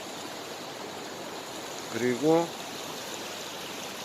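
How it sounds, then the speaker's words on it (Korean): A mountain valley stream flowing beside a campground deck after rain, heard as a steady, even rush of water. A voice speaks briefly in the middle. "계곡 물소리가"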